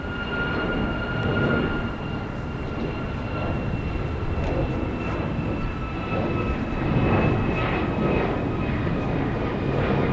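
A Jeju Air airliner at Incheon airport near Seoul gives a loud, sustained jet engine roar that rumbles on evenly and swells slightly toward the end.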